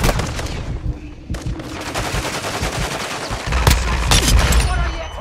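Heavy gunfire rattles through a Modern Warfare 2 multiplayer match, with rapid bursts and repeated sharp shots layered over the dense din of battle.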